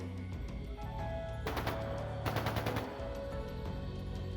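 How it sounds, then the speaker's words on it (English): Two bursts of rapid gunfire crackle in a fast rattling rhythm over a steady droning soundtrack in the video game Trails of Cold Steel II, moderately distant. "Was that gunfire I just heard?"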